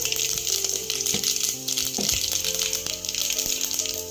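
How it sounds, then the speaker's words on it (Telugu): Tempering seeds splutter in hot oil for drumstick pappucharu, with a steady sizzle broken by irregular sharp pops and crackles and a few clanks of a utensil against the pan, close and fairly loud, with no speech. "తాలింపు గింజలు వేసాను."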